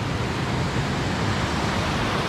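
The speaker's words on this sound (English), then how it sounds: "I hope you can hear me over the sound of the water." Creek water rushes steadily at Water Park Creek in Byfield National Park, a loud, close, unbroken broadband wash that lasts throughout with no voices.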